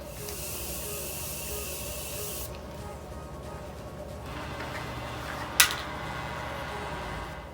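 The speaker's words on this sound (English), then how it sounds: "Then we're gonna go and do a round of setting spray." Makeup setting spray mists out in a steady close hiss for about two and a half seconds, then stops, leaving quiet room tone and a brief tap afterward.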